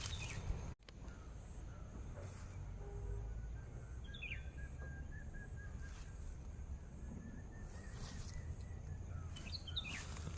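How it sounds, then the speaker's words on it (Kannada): A bird calls near its nest behind a house, producing a faint thin chirping and a brief whistled trill over a quiet outdoor hiss, with a sharp click near the start. "ಅಷ್ಟಾಗಿ ಹಿಂದ್ಕಡೆ ಇಲ್ಲಿ ಹಕ್ಕಿ ಕೂಗುದು ಕೇಳಿತು."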